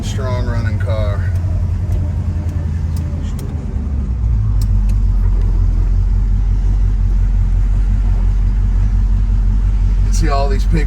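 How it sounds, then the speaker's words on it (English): A 1970 Pontiac Firebird Formula 400 with a four-speed runs loud and close, its engine rumbling steadily throughout, with brief higher-pitched squeals near the start and end. "And a really fun, strong running car."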